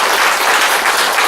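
Many hands applaud together in a church during an anniversary and ordination thanksgiving service, a loud, steady roar of clapping from the congregation with no speech over it.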